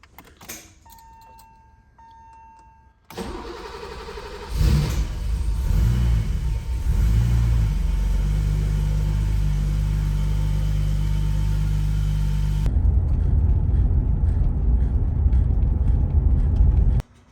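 A BMW 635CSi engine cranks and catches, then settles into a steady, close idle rumble that runs on, with no talking.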